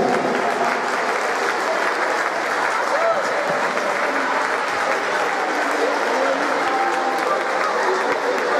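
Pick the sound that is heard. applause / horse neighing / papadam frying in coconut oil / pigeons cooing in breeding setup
applause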